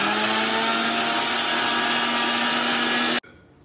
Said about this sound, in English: put the watermelons inside the grinder and then put the cap up and then start grinding